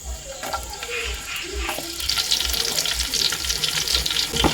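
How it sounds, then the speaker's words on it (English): Chopped onions frying in preheated cooking oil in a pot during village cooking, a steady hiss and crackle that grows denser and louder partway through, with occasional soft knocks underneath. "I'll fry the onions to golden brown"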